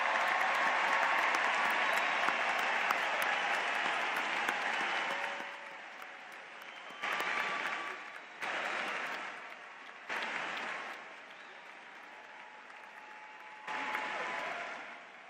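A large university commencement audience applauds honors graduates at a spring ceremony in a big hall, a long continuous roar of clapping that thins and fades, with a few short later bursts of renewed applause.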